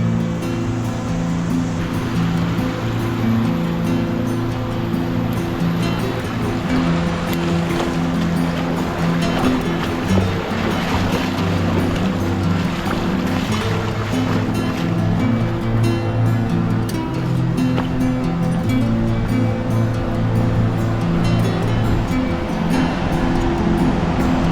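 Class 4 whitewater river rapids near Yosemite roar loud and steady throughout, a dense unbroken rush of churning water heard close up, with an engine-like low rumble mixed in.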